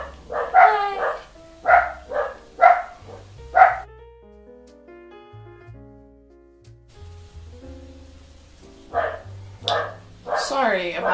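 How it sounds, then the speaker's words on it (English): Dogs bark in a quick run of four sharp woofs, fall quiet briefly, then bark again several more times, fairly close. "Sorry about the dogs"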